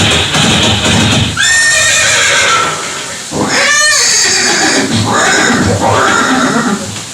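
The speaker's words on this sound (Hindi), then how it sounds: "ये दृश्य महाराणा प्रताप और सुविख्यात स्वामी भक्त घोड़े चेतक के अंतिम मिलन का है।" Horse neighing from a museum display of Chetak, Maharana Pratap's horse, at the Haldighati Museum: a loud whinny near the start, another sharp neigh midway, then further whinnying calls, all fairly close over steady background noise.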